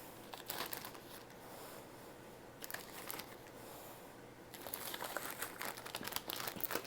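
Soft, close crinkling of a plastic bag in rustling bursts, easing off briefly in the middle before picking up again.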